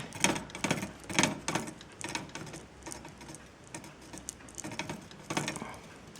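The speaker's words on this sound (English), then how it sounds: "If the pedal is mounted here, then at a certain point you can hear it's touching." Bicycle crank cogwheel rubbing against the metal frame as the pedal turns, giving repeated close scraping ticks in an uneven rhythm, quiet and with no voices.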